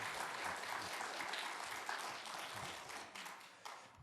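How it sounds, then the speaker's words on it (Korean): A church congregation gathered at an autumn revival meeting claps steadily in dense, moderately distant applause that holds for several seconds and then gradually tapers. "우리 뜨거운 박수로"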